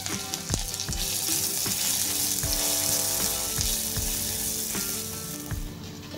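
Ginger, chili and garlic paste fries in a teaspoon of hot oil for a grilled sandwich filling, giving a steady, close sizzle with occasional clinks of stirring throughout.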